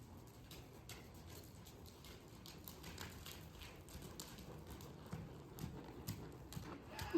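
A horse cantering on soft, muddy ground during a riding session, its hoofbeats a steady, fairly faint rhythmic thudding under low background rumble, with no talk.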